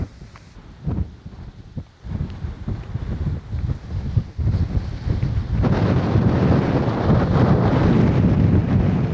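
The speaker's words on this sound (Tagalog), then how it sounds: "Lakas ng hangin eh." Strong wind buffets the microphone in gusts, building into a loud, continuous roaring rush by the second half.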